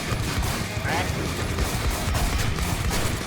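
Rapid gunfire bursts from a Minecraft WarZ shootout, dense and loud throughout, with crashing impacts over a constant noisy wash.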